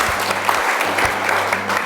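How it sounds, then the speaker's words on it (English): A group claps during a playful communication-games session, a brief dense burst of applause that carries on evenly to the end. "Applause here."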